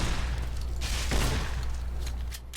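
Riot shotgun blasts from Fallout New Vegas gameplay, a dense, loud volley of booming shots crowding together over about two seconds with little pause between them.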